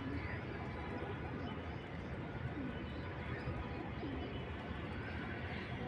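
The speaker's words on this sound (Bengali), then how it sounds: "12 নম্বর কবুতর নামতেছে।" A racing pigeon lands at its loft and coos softly, its faint calls nearly buried under a steady outdoor wash of wind-like noise.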